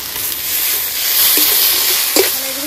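Green and dried chillies fry in a pan with a steady, loud sizzle and hiss. A few soft stirring clinks break through near the end, and no one speaks.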